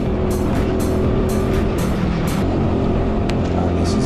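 Junior karts racing on a track, a continuous loud engine drone heard close from on board, with revving swells as a kart closes in to overtake.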